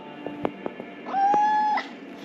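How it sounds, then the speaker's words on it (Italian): A cat gives one sustained, tonal meow, close and clear, after a few soft clicks and knocks in a quiet room in Mexico. "Lui viene chiamato amichevolmente Pomodoro perché è un gatto vegetariano."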